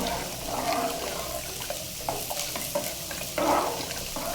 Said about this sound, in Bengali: এদিকে সবজি ভাজি হতে থাকবে